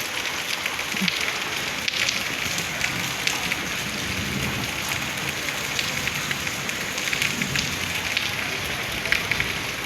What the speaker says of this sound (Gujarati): ધીમો ધીમો વરસાદ પડવાનું ચાલુ થઈ ગયું જશે